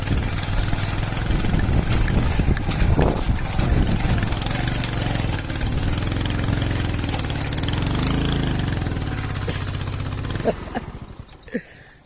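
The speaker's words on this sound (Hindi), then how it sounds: "जो मोटरसाइकिल फंस चुका है जी" A motorcycle engine runs loud and steady while the bike is stuck in deep river sand, its rough drone continuing for about ten seconds before dropping away near the end.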